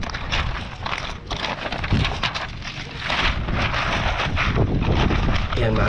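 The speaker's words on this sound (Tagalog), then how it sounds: "Check natin dito. Medyo mahangin." Gusty wind roars across the microphone in rough, uneven bursts, loud and close, with faint footsteps or handling noise.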